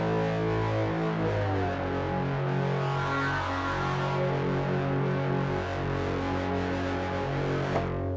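A sustained tone from a Haken ContinuuMini synthesizer grinds with heavy saturated tanh distortion, thick buzzing harmonics shifting slowly as the texture changes, loud and continuous.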